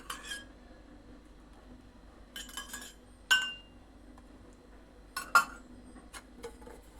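A cake baking pan being greased with oil gives a few scattered metallic clinks and taps of pan and utensil, close by with quiet pauses between them.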